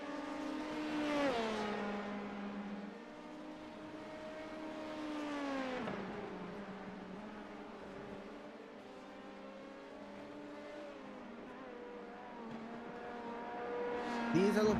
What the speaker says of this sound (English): These LMP2 cars, they may not sound like it, but they do have V8 engines.